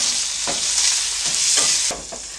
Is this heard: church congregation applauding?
no